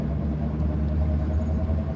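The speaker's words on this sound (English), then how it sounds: "I gotta leave the truck running to charge the battery" A pickup truck idling with the engine left running to charge the battery, a steady low rumble heard close up from inside the cab, constant and unbroken with no talking.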